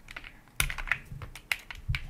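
Keys on mechanical keyboard switches with a fairly heavy feel being typed, producing sharp, close clacks in an irregular rhythm, a handful of distinct strokes with no talking.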